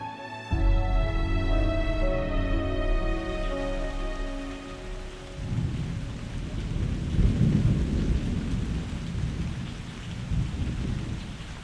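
Steady rain falls while a deep rumble of thunder rolls in, swelling and fading over the continuous downpour; no voices.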